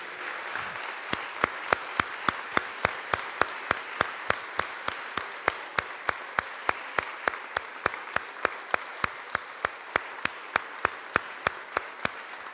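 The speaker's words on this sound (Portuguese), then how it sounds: "Você pode aplaudir o Senhor com força" A church congregation claps for the Lord in a steady, even rhythm, about three sharp claps per second held for roughly twelve seconds with no talking over it.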